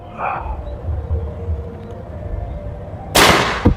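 A high-powered PCP air rifle shot at 1400 fps strikes the target with a sharp, loud crack near the end, preceded by quiet room murmur and a faint knock.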